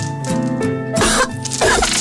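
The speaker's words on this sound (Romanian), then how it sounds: "Atunci când fetița mea tușește" A young girl coughs in a TV commercial for a children's cough medicine, giving a few close, loud, harsh coughs in quick succession with no other voices.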